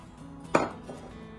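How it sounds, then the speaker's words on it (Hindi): Potatoes tumble into a mixing bowl with one short, close clatter against the bowl, then quiet; no one speaks. "एक मिक्सिंग बाउल लेके इसमें हम आलू डालेंगे"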